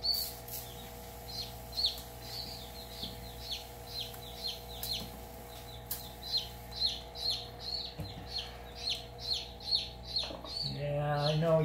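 A newly hatching chick stuck in its shell peeps in a steady run of short, high, bright cheeps, about one per second, close and fairly clear over a low steady hum, with a faint human voice near the end.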